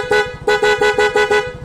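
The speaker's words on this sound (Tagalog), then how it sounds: "Tapos naka-dual horn din to." A stock dual horn on a three-year-old Mio motor scooter honks five times in quick, loud, evenly spaced bursts, a bright two-tone blare up close with no talking.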